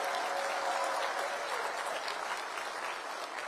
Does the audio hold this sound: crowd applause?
yes